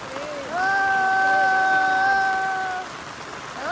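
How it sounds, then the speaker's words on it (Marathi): Heavy rain pours down at a farmhouse as a steady wash of noise, largely covered by a loud, drawn-out voice in the middle of the clip. "पाऊस बघा किती पाऊस आले बघा"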